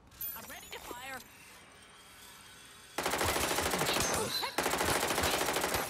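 Sustained automatic gunfire from the video game Watch Dogs: Legion, a dense rattling burst that starts abruptly and continues loud with a brief break, after a player speaks over quieter game ambience.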